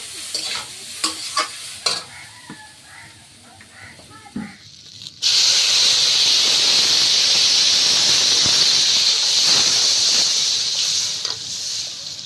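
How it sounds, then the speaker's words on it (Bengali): Water splashes into a hot pan of curry made with fresh garden vegetables and big pomfret fish, setting off a sudden loud, sustained sizzle that follows a few stirring knocks and light clatter. "এবার জল ঢেলে দেবো"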